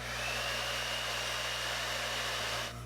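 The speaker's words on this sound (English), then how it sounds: "I'm going to put it on medium heat and medium airflow and go ahead and start blow drying" A hair dryer on medium heat and medium airflow blows in a steady, loud whoosh with a constant motor hum, cutting off near the end.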